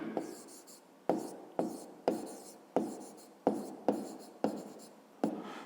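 A hand writes an answer, probably with pen or chalk, in a series of about nine short scratchy strokes in a regular rhythm, close and fairly loud.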